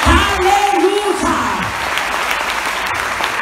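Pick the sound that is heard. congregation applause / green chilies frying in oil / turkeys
congregation applause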